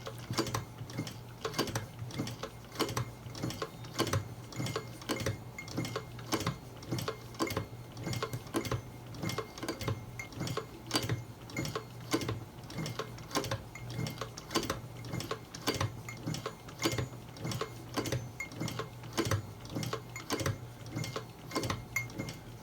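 Hand stitching of a green ostrich leather checkbook wallet's ID clip with bonded nylon thread, a steady series of quick ticking pulls and taps repeating in a regular rhythm, close and fairly quiet over a low steady hum.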